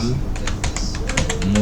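Fingers tap out a short word on a computer keyboard in quick, light clicks, close up, while someone speaks over the typing.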